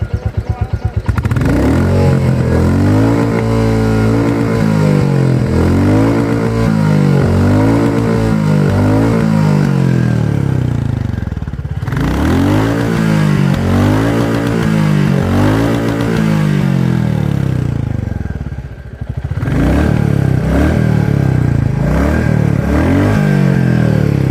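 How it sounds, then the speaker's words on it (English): A 2021 Royal Enfield Classic 350 motorcycle engine revs hard several times up to redline, the exhaust climbing to a loud roar then dropping back to a thumping idle, close by. "let's hear the exhaust note and let's see the mirrors will vibrate or not while redlining"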